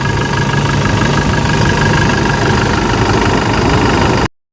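A 2016 Toyota Innova G diesel engine idling, a loud, steady, rough clatter with a constant low drone and no change in revs, heard close up and alone until it cuts off abruptly.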